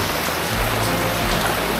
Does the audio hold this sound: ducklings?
no